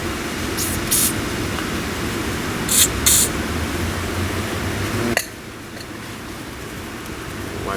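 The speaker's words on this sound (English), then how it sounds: "It doesn't hurt to put a little bit penetrating fluid" Penetrating fluid is sprayed from a can onto the CV axle nut of a 2008 Nissan Versa in a workshop, with short, hissing bursts over steady background hum that cuts off near the end.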